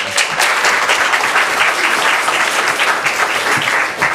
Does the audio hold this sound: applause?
yes